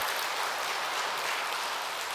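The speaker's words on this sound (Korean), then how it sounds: "오늘 이 시간에 우리 서문교회 모든 장로님들에게 고맙습니다 하고 박수를 드렸으면 좋겠습니다" Congregation at Seomun Church in Daegu applauding the church elders during a Sunday service, a dense, steady wash of clapping from many hands filling the sanctuary, even and sustained with no voices standing out.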